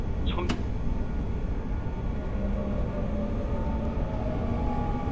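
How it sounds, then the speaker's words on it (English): In the Hmmsim Metro video game, a metro train on the other track rumbles steadily past, a constant loud rolling roar with a brief high squeal near the start. "There goes the train on the other side."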